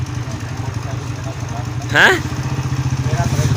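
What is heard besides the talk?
motorcycle engine idling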